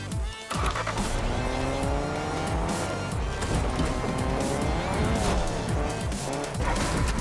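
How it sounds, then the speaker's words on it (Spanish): Car driving in the Fortnite video game, a steady engine drone with rising and falling pitch sweeps and some tire squeal, loud and continuous throughout after a brief quiet start. "Creo que no hemos durado mucho conduciendo este coche."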